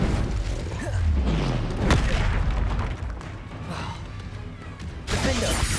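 A fire spell cast in Hogwarts Legacy, a loud whooshing burst with a sharp boom near the two-second mark amid dense game combat effects and continuous rumbling.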